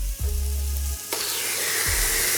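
Chicken breasts in a yogurt marinade sizzle and hiss steadily under a medium grill, a constant close frying crackle with a sharper burst of sizzle partway through and no one talking.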